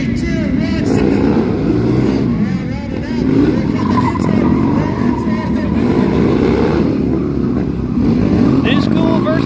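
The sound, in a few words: Harley Sportster motorcycles launching in drag race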